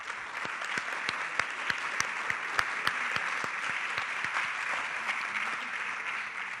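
An audience at a conference session applauds, a broad, steady wash of clapping with one nearby clapper's sharp, evenly spaced claps standing out above it.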